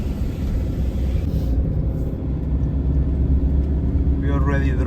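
Camper van driving along a road through a forested area, a continuous low engine and tyre rumble heard from inside the cabin, fairly loud and steady.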